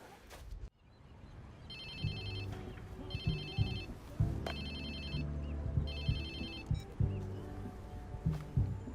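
A telephone rings in the video game Watch Dogs 2, a repeating electronic trill in regular bursts over game music and background noise.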